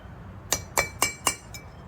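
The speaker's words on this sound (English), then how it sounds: "We'll tap it a few more times up top, on the sides." Five sharp metallic taps strike parts of a Weber 44 IDF carburetor during a rebuild, evenly spaced and close, each a bright ringing click, the last one fainter.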